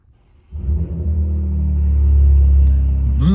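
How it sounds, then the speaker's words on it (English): A new BMW M car engine starts up and settles into a deep, loud, steady rumble close by, swelling slightly as it holds, with no talking. "But that is a shit sounding car, bro."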